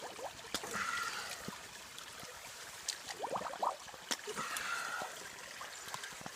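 Water trickles and splashes into a shallow gold pan in uneven bursts during gold panning in Alaska, with small clicks and scrapes mixed in, close by.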